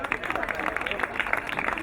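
Audience applause and cheering at a lottery draw for number 104, a dense steady clapping crowd with hubbub, continuous and moderately loud throughout.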